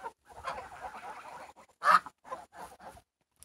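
A goose honks several times in short, uneven bursts, one call louder than the rest, with quiet gaps between.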